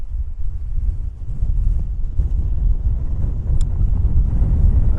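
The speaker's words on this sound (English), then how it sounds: "it's a bit chilly, the wind's come up" Gusty wind buffets the microphone with a low, rumbling roar that swells and eases, no voices.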